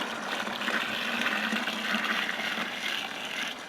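Redbud juice being stirred for wine vinegar sloshes and swirls continuously in a large container, a soft, steady watery churn heard close up with no voices.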